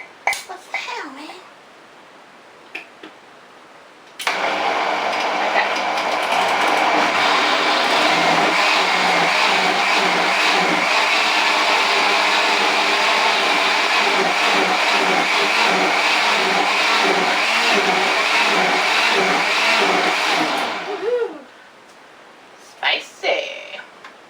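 A blender puréeing vegetables to hide them from kids: a loud, steady whirring motor runs for about seventeen seconds, starting and stopping abruptly, with faint sounds before and after.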